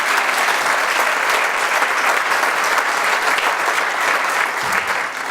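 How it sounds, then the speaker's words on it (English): A hall audience at a scholar-athlete awards presentation applauds steadily, a dense, even wash of many hands clapping that holds at full strength throughout and dips only slightly at the very end. "All right, a final round of applause for these two fine individuals"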